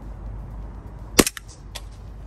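A single sharp crack from a WE G17 gas blowback airsoft pistol firing outdoors, loud and close, followed by a brief mechanical clack of the slide cycling and a faint distant tap.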